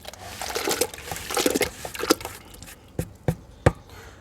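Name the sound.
soil being mixed into jaggery water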